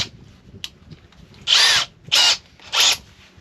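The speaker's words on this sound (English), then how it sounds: "we'll put in our drill bit." A power drill bores through a backing plate in three loud, steady bursts of about half a second each, separated by short pauses, close up with faint handling noise between.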